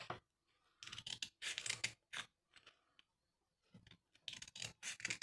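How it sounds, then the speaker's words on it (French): Scissors snip between strips of paper while a paper flower is made for Mother's Day, giving several short crisp cutting bursts separated by quiet pauses, close and fairly soft. "Et en fait, là, je vais couper, vous voyez, entre les bandes"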